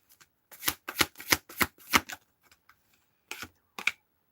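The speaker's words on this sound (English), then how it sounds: "Shuffle." Tarot cards being shuffled in a quick run of crisp riffling bursts, then a pause and two more short shuffles, close and clear with no talking.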